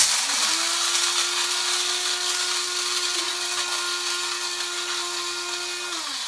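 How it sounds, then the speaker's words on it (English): A steady, high-pitched electric grinder grinding coffee and spices whirs continuously for about six seconds, with a sharp motor whine and a broad gritty hiss, then cuts off. "here's the grinder. It's gonna get a little noisy"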